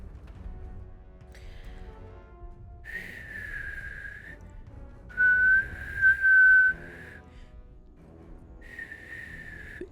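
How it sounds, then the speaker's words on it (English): A person whistles short tuneful phrases, one at a time with pauses in between, the middle phrase louder and wavering, over a faint background hum. "Actually, I am getting better at whistling though."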